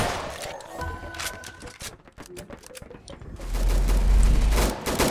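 Gunfire in a zombie video game, rapid bursts of shots and clattering automatic fire, loud and close, followed by a heavy rumbling boom, with a voice speaking over the action.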